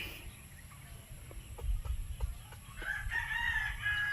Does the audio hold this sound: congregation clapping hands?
no